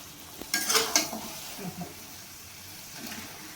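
Chicken being fried and stirred with masala in a pan: a loud burst of close scraping and sizzling early on, then softer stirring and a low sizzle, with no talking.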